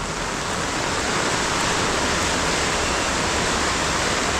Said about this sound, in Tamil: இன்னுமே மழை பெய்து கொண்டே இருக்குது பெய்து கொண்டே இருக்குது